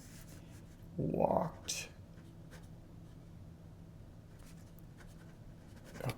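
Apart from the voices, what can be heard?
writing words down while diagramming a sentence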